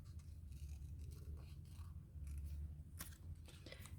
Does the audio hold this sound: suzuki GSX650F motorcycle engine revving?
no